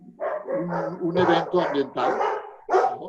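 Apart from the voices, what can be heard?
dogs barking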